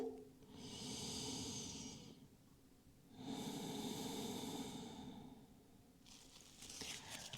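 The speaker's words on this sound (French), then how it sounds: "Une dernière respiration." Deep, slow breathing during a yoga session in child's pose, two long airy breaths close to the microphone with quiet pauses between, then a shorter rustle at the end.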